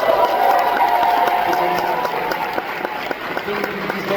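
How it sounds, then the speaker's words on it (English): At the Andor Season 2 premiere Q&A, the audience applauds the cast with a dense, steady round of clapping that gradually softens, with a faint tonal hum in the background. "I think it'll be nice to give a good applause to the whole cast that's here"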